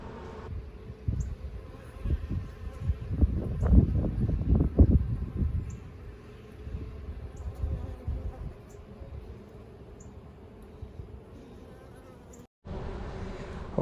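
Honeybees buzz at an opened hive during a spring inspection, a dense steady drone that swells louder and busier for several seconds, then settles to a softer hum, with no talk.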